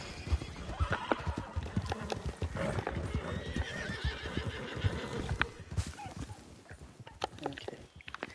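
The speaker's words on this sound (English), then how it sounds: "Ooh, pretty horse." Horse in the Red Dead Redemption 2 video game whinnies in a long wavering neigh mid-clip over steady clip-clopping hooves, close and loud throughout, with faint background clatter.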